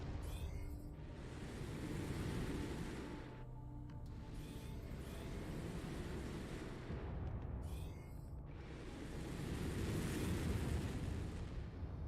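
Mech explosions in MechWarrior 5 blast out as deep, rolling booms that swell and fade in long waves, two big detonations spaced several seconds apart under a steady rumble, heard without talk.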